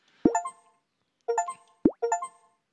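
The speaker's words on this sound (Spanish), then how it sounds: "esos que escucháis son logros" Achievement-unlocked chime from the video game Desktop Beach Girls: three bright plucked jingles, each a short plop followed by a ringing tonal ding, spaced about a second apart, clear and alone with no talk.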